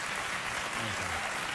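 A studio audience on a late-night talk show applauds in a steady, dense patter of clapping that fills the whole moment.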